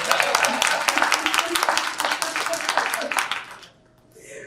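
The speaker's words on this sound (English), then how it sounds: "You can clap for the two of them. Now's the time to clap." An audience at a legislative candidate debate claps steadily for a few seconds, the applause tapering off and fading out toward the end.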